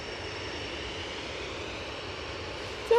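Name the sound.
airliner touching down on arrival from London Heathrow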